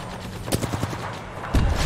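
Rapid gunfire in Apex Legends aimed at a shield generator, a string of sharp evenly spaced shots in the middle followed by a heavier, louder burst at the end, with no talking.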